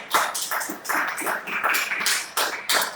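A church congregation claps loudly and steadily in a dense, sustained round of applause, with no voices standing out.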